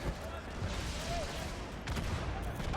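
Dense gunfire from a Halo esports match, a steady wash of shots and explosions throughout, with players talking and shouting callouts over the game sounds.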